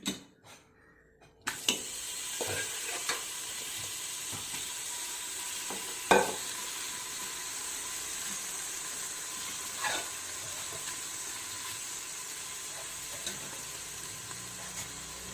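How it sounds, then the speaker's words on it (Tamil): Cooked chicken frying in a heavy pot for chicken biryani, a steady loud sizzle with occasional scraping stirs and clinks throughout. "இப்போது நம்ம வேக வச்சுருக்க சிக்கனை போட்டுக்கலாம்."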